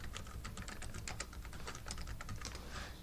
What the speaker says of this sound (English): so I'll type that in